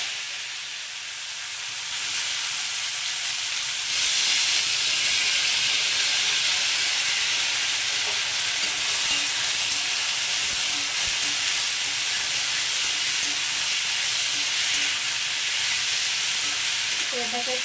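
Bitter gourd and potato dropped into hot mustard-seed tempering set off a loud, continuous sizzle and hiss that swells after the first seconds and holds steady, close by, with faint stirring underneath.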